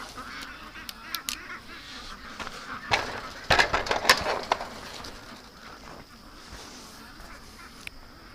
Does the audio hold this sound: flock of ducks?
yes